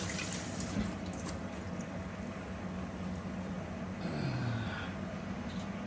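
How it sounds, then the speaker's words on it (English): Tap water runs steadily into a kitchen sink as hands are washed, a continuous close splashing hiss with a brief shift in flow partway through and no talking. "Wash hands again"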